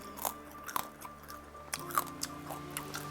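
Crunchy chewing of firm boiled pork belly skin, close to the mic, with irregular sharp bites and crackles spaced through a few seconds, and no talk over it.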